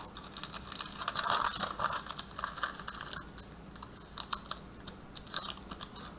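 Baking paper is folded into a square to line a cake tin, giving close, fairly loud continuous crinkling and crackling with brief sharper rustles.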